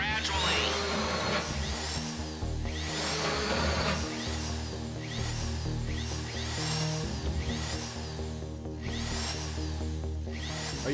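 A drill whines in a video game casino heist, loud and continuous with a steady grinding buzz and rhythmic pulses roughly every second, no voices over it.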